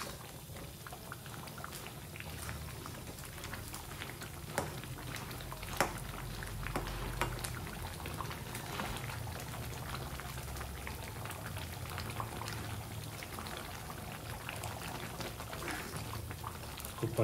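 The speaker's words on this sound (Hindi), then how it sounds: "पकने देने का है अच्छे से, अभी पका नहीं है।" Chicken curry simmers and bubbles in a pot, a soft continuous boil with scattered pops and faint splatters, steady and close throughout.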